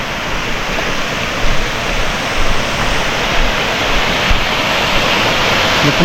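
A rain-swollen waterfall in a forest village near Kanisaru, Odisha, during the rainy season roars as a loud, steady, unbroken rush of water close by, with no voices over it.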